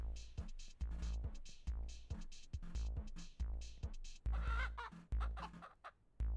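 Chickens clucking in the Ranch Simulator game, with close, loud, repeated clucks and squawks in a choppy rhythm, one brief louder flurry partway through.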